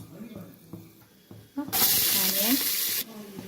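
Cinnamon and cloves hit hot oil in a pressure cooker for prawn biryani. After a few quiet clinks, a sudden loud, hissing sizzle bursts up and holds for over a second under a talking voice, then cuts off.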